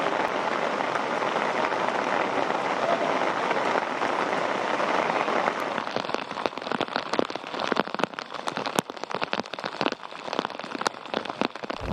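Heavy rain pours steadily in Tamil Nadu, a dense continuous hiss that later turns choppier with sharp, crackling drop impacts, loud and close throughout.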